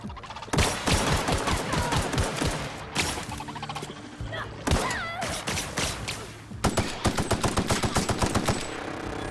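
Rapid automatic gunfire bursts from The Outer Worlds video game, loud and dense, with sharp repeated shots and brief pauses alongside other combat effects.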